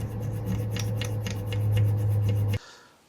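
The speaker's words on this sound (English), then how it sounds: "Up next, we undercut the mica with this hacksaw blade." A hacksaw blade undercuts the mica on a Ford starter commutator, giving a rapid series of close, gritty rasping strokes over a steady low hum that stops abruptly near the end.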